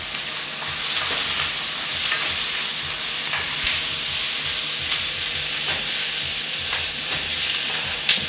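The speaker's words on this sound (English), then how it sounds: "Now I'm going to switch to a wooden spoon." A wooden spoon stirs food frying in a pan, with a steady loud sizzle and hiss broken by soft, irregular scraping strokes.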